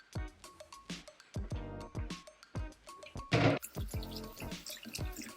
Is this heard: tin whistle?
no